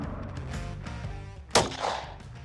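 A single loud gunshot rings out from a test-fired gun partway through, sharp and close, with a brief decaying tail and low mechanical handling noise before it.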